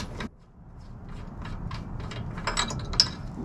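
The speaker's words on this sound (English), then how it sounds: "I'm taking out the spark plug, spraying some fogging oil directly into the cylinder" Spark plug being unscrewed from a small engine while preparing it for winter storage, a series of soft metallic clicks and ratcheting ticks at close range, ending with a sharper click.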